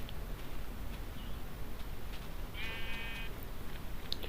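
A single faint sheep bleat from the game Minecraft rises briefly over steady background hiss, with a few soft ticks around it and no voices.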